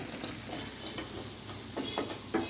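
Chilli chorchori sizzling in a pan while being stirred, a continuous close frying crackle broken by several scraping strokes toward the end.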